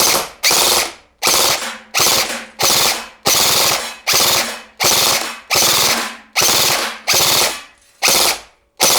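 A KWA Ronin TK.45 airsoft AEG rifle fires full-auto in about ten loud, close bursts, each a rapid mechanical rattle split by short pauses, with no talking.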